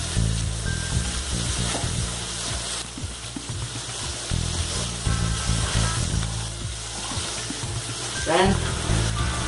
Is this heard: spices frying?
yes